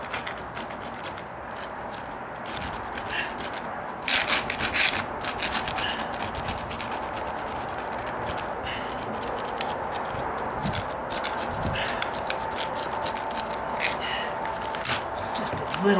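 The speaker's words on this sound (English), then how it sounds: "It's that vinyl patch, so that's why I'm able to just scrape it off right down in there" A tool scrapes a vinyl patch off a deck during dry rot repairs, making a steady, close rasping rub that runs throughout and grows slightly harsher partway through.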